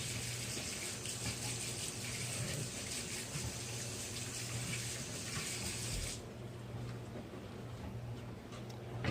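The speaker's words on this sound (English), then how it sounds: "I'm going to rinse these gloves." Gloves rinsed under a running kitchen tap during sprouted soy yogurt making, a steady close gush of water into a sink that drops off abruptly partway through, leaving quieter splashing and drips.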